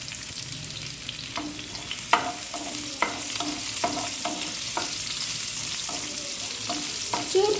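Garlic frying in hot oil, a steady sizzle under a hiss with scattered sharp clicks and scrapes of a spoon stirring through it, close by and with no talking.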